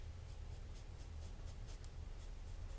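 A knife blade drawn across arm hair to test its sharpness: quiet, close, rhythmic scratchy strokes, several short passes in quick succession over a low, steady background hum.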